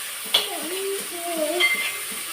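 Green eggplant pieces frying in a ground spice paste, a steady close hiss and sizzle with stirring scrapes, while someone talks over the cooking.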